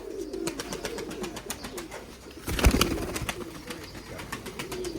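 Pigeons coo repeatedly at close range, including a moulting hen with an egg, with a brief louder rustle or flutter midway and steady background cooing throughout.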